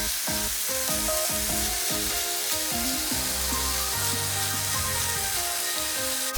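Meat for jjajangmyeon browning in a hot pan, a loud, steady sizzle and crackle with repeated stirring and scraping strokes throughout.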